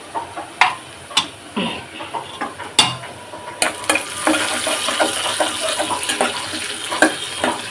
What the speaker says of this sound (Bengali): এইরকম লাল টকটকে করে ভেজে নিলাম